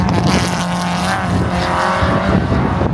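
A race car roars close by with a loud, sustained engine drone and a shifting pitch as it passes.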